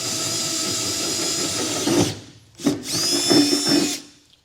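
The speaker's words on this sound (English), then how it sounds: "we're going to go back in the bed with a larger drill bit" A power drill with a 9/16 bit enlarges holes in a truck bed, whirring steadily and close for about two seconds, then stopping and restarting in two more short bursts that cut off.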